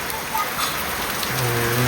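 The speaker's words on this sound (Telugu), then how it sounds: "వానల కాలంలో మొదటి వాన బాగానే పడుతుంది" Steady first monsoon rain falling in a village, a dense, even hiss of drops spattering on surfaces, close and continuous throughout with no voices.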